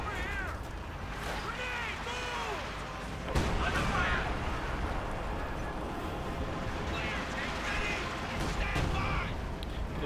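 Scattered distant gunfire and crackling battle noise from a Company of Heroes 2 match, fairly faint beneath continuous commentary, with a sharper burst partway through.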